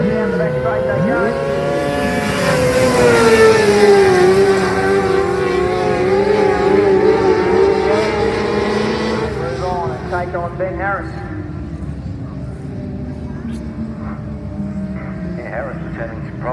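Formula 500 race cars roar down the back straight at a dirt speedway, engines loud and rising in pitch before fading, with a commentator talking over them.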